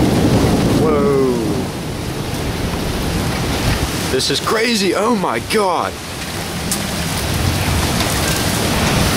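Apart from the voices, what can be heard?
heavy rain and thunder during severe thunderstorm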